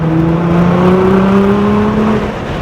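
A Porsche supercar's engine drones steadily on a race track at Charlotte Motor Speedway, two tones climbing slowly in pitch as it pulls under power, loud and close from inside the car.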